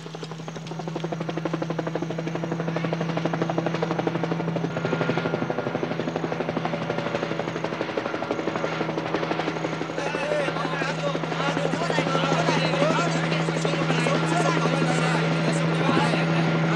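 Military helicopters from the 1978 Vietnam War film Go Tell the Spartans fly overhead with a steady, loud rotor drone and engine whine that builds slightly toward the end, holding continuously under faint background activity.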